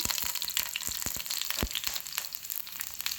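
Garlic fries in a pan with curry leaves for a gongura sour sambar, producing a close, continuous sizzle broken by frequent sharp crackles and pops, with no talking.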